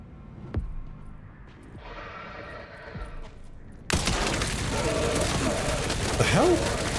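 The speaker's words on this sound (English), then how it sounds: "Terrible shooting." Gunfire in the survival-horror game Resident Evil Requiem: a lone early shot, then a sudden loud burst of shooting with chaotic impact noise that stays dense to the end.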